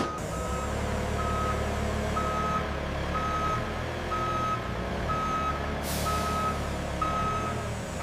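A truck backs up to a loading dock at a cassava flour processing plant, its reversing alarm beeping steadily about once a second over a loud, constant diesel engine rumble and hiss.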